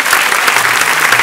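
A comedy-show audience applauds comedian Daniel Wagner, a dense, loud burst of clapping that fills the whole short moment.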